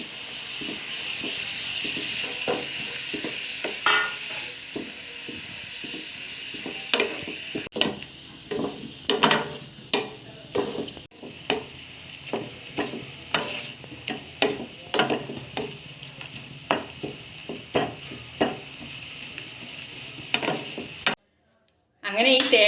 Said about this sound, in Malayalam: ഇനി ഇതിലേക്ക് ഉരുക്കിയ ശർക്കരയും ഒഴിച്ചു കൊടുക്കാം. ഇനി ഇത് ഡ്രൈ ആയി വരുന്നത് വരെ നമുക്ക് വെയിറ്റ് ചെയ്യാം.